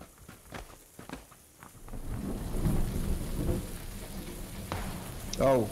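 Rain and thunder in the battle royale game PUBG. A low rolling rumble of thunder builds beneath steady rain patter, with a few sharp ticks early on and a closer, brighter burst near the end.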